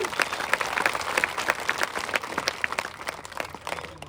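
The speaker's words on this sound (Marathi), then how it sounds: "टाळ्या वाजा सर्वांनी." A crowd at a Maratha reservation rally speech for Jarange Patil claps steadily and loudly, dense applause filling the moment with a few voices mixed underneath.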